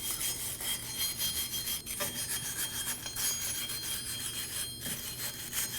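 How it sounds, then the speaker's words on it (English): A wire brush scrubs rust and debris off the rear brake hub of a 2017-2024 Nissan Armada, giving a steady, close, continuous raspy scraping with brief pauses near two and five seconds. "We're gonna use a wire brush and we're gonna just get rid of all the debris on this area."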